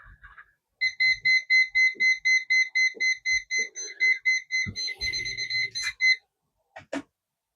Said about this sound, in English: It's just a little alarm telling me um, the cup is full of water.